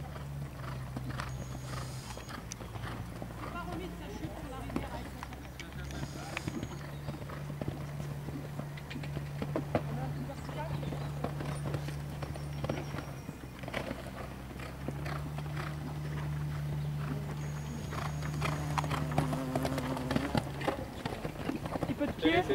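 A horse at a show-jumping Grand Prix event in Barbaste clip-clops with steady, fairly close hoofbeats throughout, under ongoing conversation.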